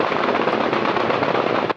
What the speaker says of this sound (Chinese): 透早金门炮声就真大声